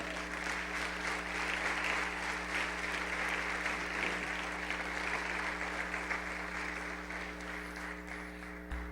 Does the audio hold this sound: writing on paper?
no